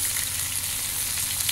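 Onions frying in hot oil, a brief, even sizzle held close and steady with no voices over it.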